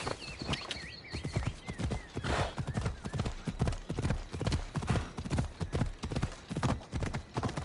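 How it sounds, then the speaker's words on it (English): Horse hooves clip-clop in a fast, steady galloping rhythm in a PS4 video game, loud and continuous over game sound, with a brief whinny near the start. "Giddy up!"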